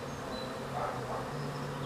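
Honeybees inside a wooden hive hum in a steady, close drone, a low continuous buzz with a few higher wingbeat whines drifting over it, with no talking.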